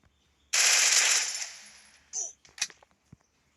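Gunfire in the mobile shooter game Free Fire: a loud, sustained rapid burst of automatic fire that tails off, followed by a few separate sharp clicks and clacks.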